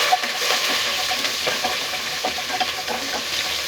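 Curry leaves, small shallots and green chilies sautéing in hot oil for a fish curry, a loud continuous sizzle with crackles and soft stirring scrapes close by.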